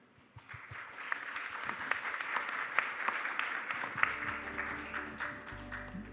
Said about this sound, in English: please welcome the moderator with a big round of applause